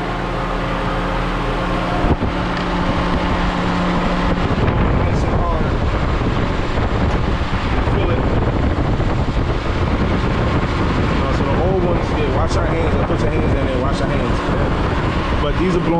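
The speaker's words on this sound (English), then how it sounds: "fans are coming on, they working." Radiator cooling fans on an Infiniti G35 blow hard, giving a loud, steady, rushing whoosh of air close by that continues throughout the clip.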